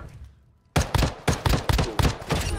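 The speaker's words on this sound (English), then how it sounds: "there was legit gunfire going off" Rapid bursts of video game gunfire crack in quick succession after a moment of near silence, loud and close, with irregular rhythm like automatic weapon fire.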